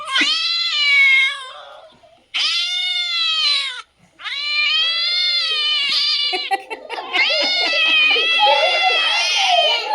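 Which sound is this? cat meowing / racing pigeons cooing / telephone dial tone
cat meowing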